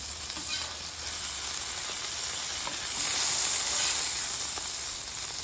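Butter foams and sizzles steadily in a hot pan while it is spooned over a burger patty for a lobster surf-and-turf burger, a dense continuous hiss that swells slightly toward the middle with no talking.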